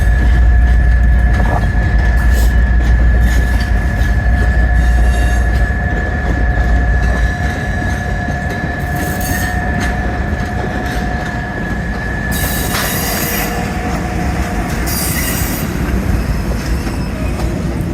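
A scenic railroad train rolls steadily past on the tracks with loud low rumbling, rhythmic wheel clatter and occasional squealing, close and continuous throughout.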